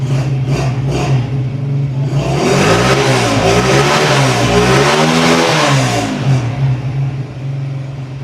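A Crown CR 100 motorcycle engine running close by after a self-start, idling at first, then revving up and down in several swells before settling back to an idle.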